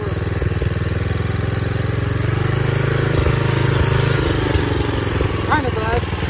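A roughly 50-year-old lawn mower engine runs steadily while the mower is driven, a loud, continuous chugging drone throughout with slight shifts in pitch near the end.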